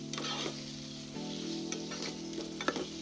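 Spam sautes in a pan with kimchi juice and green onions, giving a close, continuous sizzle. Stirring scrapes and small pops recur throughout.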